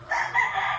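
A Tornado Hatch rooster of Picom side stock crows in one sustained, strained call lasting under a second, close and loud with no other sound around it.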